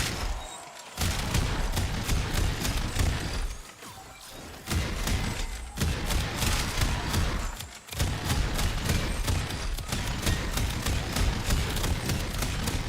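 Rapid gunfire from an electricity-modded weapon in Warframe, a dense run of shots that pounds on for long stretches with only a few short breaks, loud and close.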